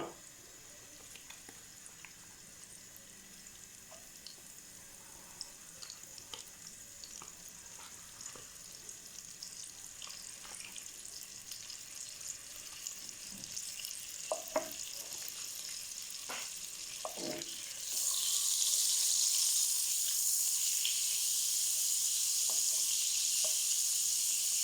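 Butter for chicken makhni handi hits a hot pan and bursts into a loud, steady sizzle after a long quiet stretch of faint clicks and kitchen handling, then hisses on evenly.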